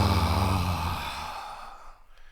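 A long, deep exhale from one person during a guided breathing exercise, a breathy whoosh that starts full and tapers off over about two seconds. Up close, with no talking.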